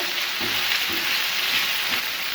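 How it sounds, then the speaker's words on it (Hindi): Chicken cooking in a pan over a medium flame gives a steady, close sizzle with a broad hiss that stays level throughout, broken by a few faint soft knocks. "अब हम फ्लेम को मीडियम कर देंगे और इसको 8 से 9 मिनट तक अच्छी तरह से कुक करेंगे ताकि चिकन जो है वो अच्छे से गल जाए"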